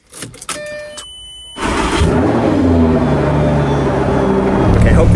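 A Lamborghini with a diamond wrap starting up: a few clicks and a whir, then the engine catches with a sharp rising rev and settles into a loud, steady rumbling idle close by.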